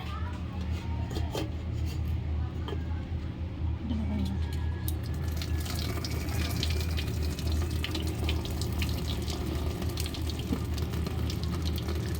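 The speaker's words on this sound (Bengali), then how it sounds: "জলটা ফেলে দেবো" Water being poured off a pot of boiled taro roots in a home kitchen, a steady broadband splashing and gushing that runs continuously for about twelve seconds, close and fairly loud.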